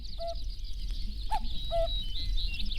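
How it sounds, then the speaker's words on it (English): A common cuckoo calls in the wild outskirts of Beijing: three short tonal notes spaced over about three seconds, fairly distant, over a steady high insect drone and low background rumble. "Their cuckoo calls are often heard in summer, but the birds themselves are rarely seen."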